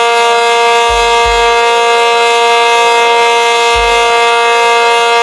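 ACA P50 civil defence siren blaring a loud, steady sustained wail, dense with harmonics, with a few low thumps underneath.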